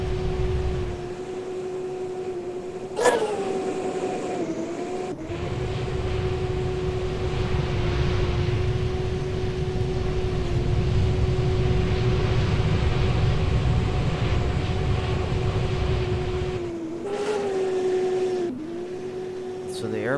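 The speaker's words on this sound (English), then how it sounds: "Swiss Air MD-11. Alright, so we can taxi to the runway." MD-11 jet taxiing to the runway in a flight simulator game, with a steady engine whine and low rumble holding throughout and brief pitch swells near the start and end, under occasional talk.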